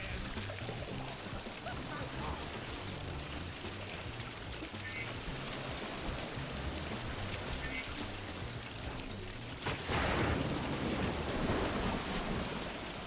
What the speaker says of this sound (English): Just listen for the thunderstorm calling for you.